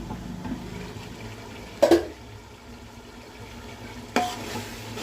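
Mutton masala for biryani is stirred in a pot, giving a low simmering bubble broken by two sharp scraping clanks of the spoon against the metal.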